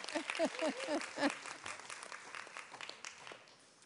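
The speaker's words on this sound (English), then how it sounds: "Can we have a round of applause for that?" Audience applause at a high-level briefing on the African Women Leaders Network, fairly quiet and steady, with a voice briefly heard over the clapping at the start.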